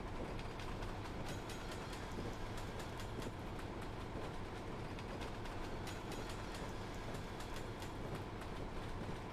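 Boston & Albany train running in Train Simulator, a steady rolling rumble with repeated clickety-clack wheel beats across the rail joints, loud and continuous throughout, no talk.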